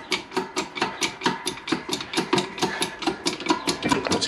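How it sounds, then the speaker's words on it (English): Repeated metallic taps of a bearing driver knocking a wheel bearing into the rear hub of a Honda VFR800 VTEC, a steady rhythm of about four blows per second, close and loud, with no talk. "I've got some bearing drivers. I might just use that to get it started"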